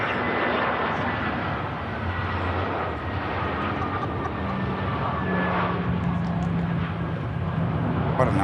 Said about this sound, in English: EasyJet in from Basel.